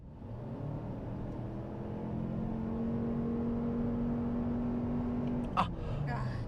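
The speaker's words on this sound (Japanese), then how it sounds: "ちょっともう一回スポーツで全開加速やってみます。 80からの全開加速です。" A Lexus RX350h hybrid SUV in Sport mode accelerating at full throttle from 80 km/h on a highway, a steady rising engine drone under heavy road and wind rumble, with a brief knock near the end.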